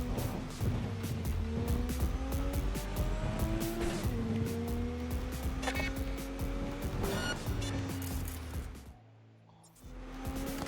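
A car's engine in Cyberpunk 2077 revs and shifts up through gears while its tires squeal, then it drops briefly to near silence before the engine picks up again.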